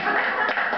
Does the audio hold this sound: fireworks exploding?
no